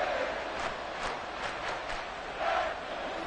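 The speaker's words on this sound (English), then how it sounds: "this crowd making it hard to hear" Loud roar of a football stadium crowd during a third-and-eight play, a steady broadband wash of massed voices that swells in places and carries no clear speech.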